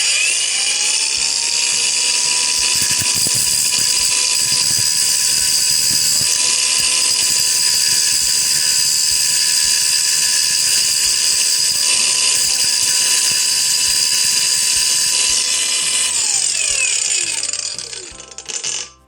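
A Lucid LY-850 brushless angle grinder cuts through a nail with a loud, sustained high-pitched whine and grinding rasp, running steadily nearby before spinning down at the end.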